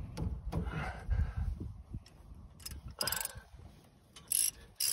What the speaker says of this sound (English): Just stick your wrench in there and